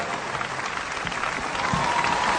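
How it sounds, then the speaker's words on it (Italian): At a festival show in Castelfranco Veneto, an audience claps for the Aram Quartet's choreography, a steady, dense burst of applause heard throughout without pause. "un applauso"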